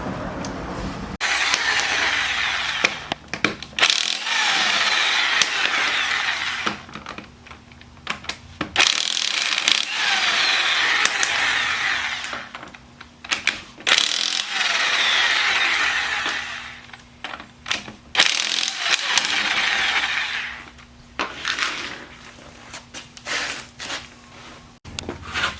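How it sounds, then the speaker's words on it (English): A car jack works the vehicle upward for a wheel removal, with repeated bursts of broadband mechanical rasping and ratcheting strokes separated by short pauses, close and fairly loud. "We just have to jack it up, put it underneath and bring it up"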